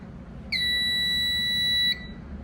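A basement fire alarm system beeps after being reset: one loud, steady electronic tone held for about a second and a half, standing out clearly over a quiet background hum.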